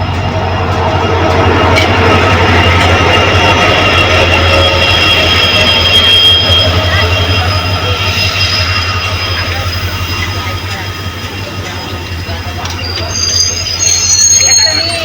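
A train pulls into a crowded intercity station with a loud, steady rumble of wheels and engine, a faint squeal of the wheels, and a horn-like tone near the end, close by and dominating, with some voices in the background.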